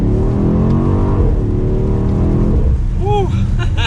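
A 2023 BMW X6 M Competition with its exhaust in the louder M2 mode, a sustained close engine drone that rises in pitch and then fades, with a voice exclaiming near the end.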